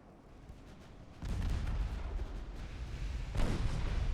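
Heavy warship guns boom in a naval battle game, set in a 1921 Ottoman campaign; a low rumbling blast swells and holds, with a second sharp salvo near the end.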